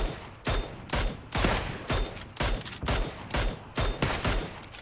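Gunfire in the battle royale game PUBG, heard as a run of about eight loud, sharp bursts spaced roughly half a second apart, each with a short decaying tail, close and sustained with no talking.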